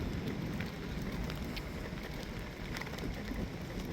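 Steady rain falling in a village by open fields where horses graze, a continuous dense hiss with gusty rumble, fairly loud and unbroken, with no voices.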